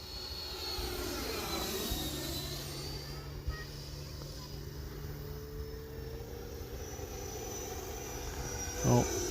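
E-flite Viper 90mm EDF radio-controlled jet flying overhead, a continuous whining ducted-fan roar with pitch sweeps as it passes, moderately distant, with a brief handling noise near the end.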